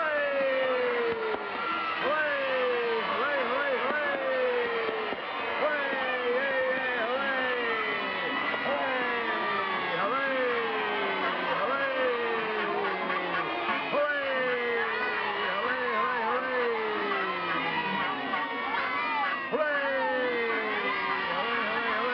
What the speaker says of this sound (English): And all cheer at the same time.